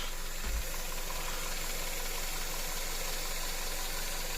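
A car engine idles after an engine flush, still running old oil, with a steady low rumble and broad mechanical hum, unchanging throughout, with no voices.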